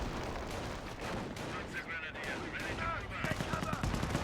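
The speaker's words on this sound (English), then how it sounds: "Here comes a Warframe barrage" A rocket artillery barrage in the strategy game Company of Heroes, with rapid rumbling blasts and crackling fire rolling on under a commentator's continuous talk.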